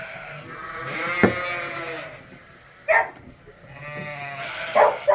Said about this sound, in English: she is the 102nd ewe to have lambs